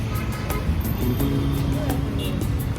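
Pune road traffic with cars passing close by, a continuous engine rumble and a few horn-like tones over steady street noise, with people talking in the background.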